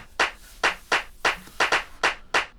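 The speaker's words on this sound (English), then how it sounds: "Okay, so the clap." Seven sharp, bright handclap hits from the LM Drum machine's clap sample, close and dry, fired in a loose irregular pattern with nothing else sounding.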